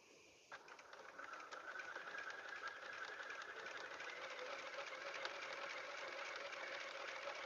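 A sewing machine runs a seam on an Old Glory quilt wallhanging, starting after a brief pause and then humming at an even, close, moderately loud pace to the end.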